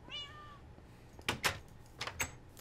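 Minecraft cat meows once up front, a clear falling cry, followed by a few louder bursts of noisy in-game thumps and rustles.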